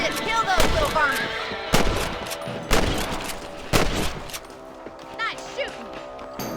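Gunfire while hunting rabbits in the Western game Red Dead Redemption: several sharp, loud rifle shots spaced a second or so apart, ringing out over ambient outdoor sound, with a voice speaking between shots.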